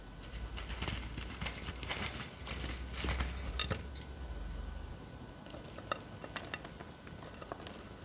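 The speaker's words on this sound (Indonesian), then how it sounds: "Ini kita tiriskan ya, kita goreng sisanya yang belum digoreng." Bakwan jagung, crispy corn fritters, frying in hot oil with steady sizzling crackle plus clinks and scrapes of a utensil lifting and draining pieces, close and continuous.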